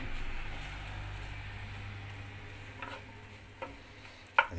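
Onion browns in a pan for a Moroccan tagine, giving a faint, steady sizzle close by with a few light clicks and taps near the end.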